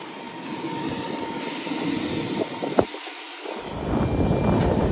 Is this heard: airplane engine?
yes